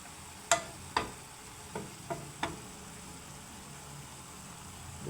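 Mushrooms for a mushroom masala sizzle quietly in a pan while a spoon stirs them, giving a handful of sharp scraping knocks over a soft steady frying hiss.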